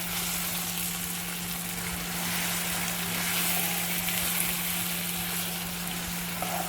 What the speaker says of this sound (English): I cracked in the egg. I'm now going to stir it.